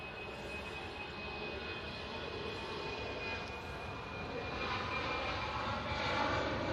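An EasyJet airliner at an airport roars steadily with broadband engine noise and a thin high whine, swelling louder toward the end as it nears.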